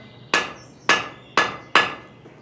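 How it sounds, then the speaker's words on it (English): Four sharp, ringing hammer blows strike a nail rod on a blacksmith's anvil during nailmaking at a museum, spaced about half a second apart with short decaying rings and no talk. "So the blacksmith would work at the anvil, would draw it out"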